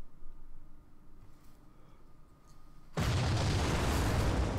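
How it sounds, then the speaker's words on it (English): After a quiet stretch of low hum, an explosion in the video game Zero Time Dilemma erupts suddenly into a loud, sustained roaring blast that fills the rest of the moment. "We had an explosion."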